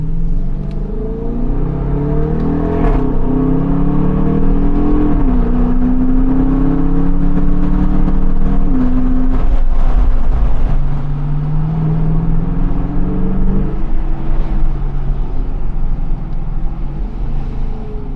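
A Jeep Grand Cherokee engine pulls at moderate throttle with the windows partially open, a loud, steady rumbling drone whose pitch rises and dips as revs shift, with wind and road noise mixed in.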